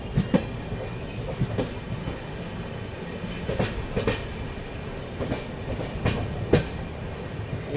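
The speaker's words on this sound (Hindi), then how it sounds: "एकदम स्लो डाउन हो गई गाड़ी।" Dibrugarh Rajdhani Express slowing down, with steady wheel rumble on the rails and repeated clickety-clack joint hits spaced through the passage, heard from inside the coach at moderate level with no talk.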